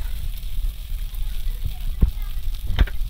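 Spices frying with cabbage in a pan for a Bengali cabbage ghonto with prawns, giving a steady low sizzle and crackle with a couple of sharper pops near the end.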